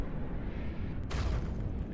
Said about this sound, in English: Boom. Totally obliterating the mothership.